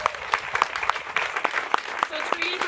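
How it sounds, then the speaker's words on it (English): A small crowd claps at a ribbon cutting for Texas Healthcare Imaging, light scattered claps in an uneven rhythm, fairly close and modest in volume. "Let's give them another round of applause."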